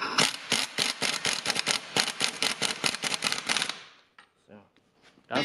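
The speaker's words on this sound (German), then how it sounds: "Ziehen die jetzt zart, aber bitte nur zart mit dem Schlagschrauber bei" An impact wrench hammers in a rapid, loud, rattling burst on the strut piston rod nut of an Opel Insignia Turbo during a front lowering-spring installation, then stops, leaving a few faint clicks.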